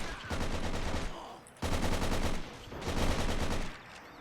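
MAS 36 rifle fire in a war strategy game comes as three loud, close, rapid bursts of overlapping shots, separated by brief gaps.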